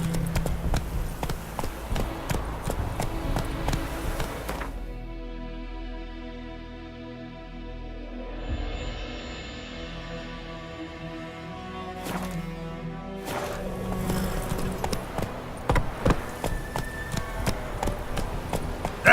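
The horse Roach gallops in The Witcher 3, a steady rhythmic clip-clop of hooves heard close for most of the run, thinning briefly midway before the hoofbeats pick up again, with no speech.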